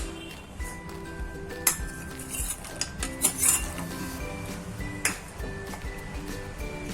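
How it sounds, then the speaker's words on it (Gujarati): Roasted peanuts and cashews tipped into a pan of sabudana khichdi, with a scatter of small clinks and taps against the metal and a few sharper utensil knocks. "હવે તેમાં આપણે રોસ્ટ કરેલા આપણે સિંગ દાણા અને કાજુ નાખી દેશું"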